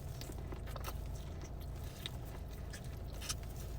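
Someone chews and bites into sweet corn up close, with soft wet crunches and smacking bites repeating irregularly at low volume, without talk.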